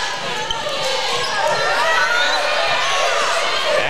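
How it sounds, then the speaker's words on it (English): Home fans at a Reynoldsburg girls' high school basketball game cheer and shout in a loud, sustained crowd roar in a gym, with sneaker squeaks and a commentator's voice over it. "As you hear the Reynoldsburg fans cheering for a foul on the play."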